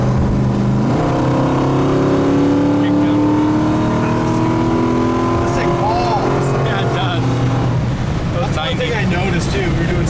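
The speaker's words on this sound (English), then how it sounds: "this car just pulls and sits you right back in your seat right now" A Hemi-powered 1967 car cruising down the road at around 65 to 70 mph, its engine drone steady and close with shifting tones as it accelerates, wind and road noise underneath.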